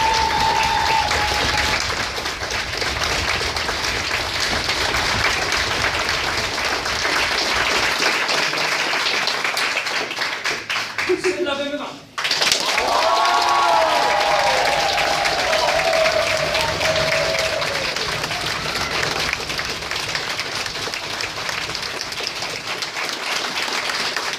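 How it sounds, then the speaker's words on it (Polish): Sustained audience applause at a live game-show vote, loud and dense throughout, briefly dipping to near silence midway before the clapping resumes at full strength. "było dokładnie tyle samo oklasków"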